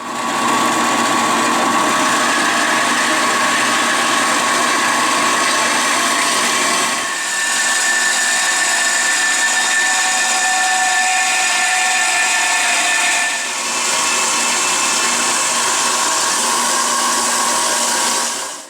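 A metal-cutting machine cuts through a plate without coolant, giving a loud, steady high-pitched whine with a constant tone that shifts slightly twice and runs the whole time with no talk.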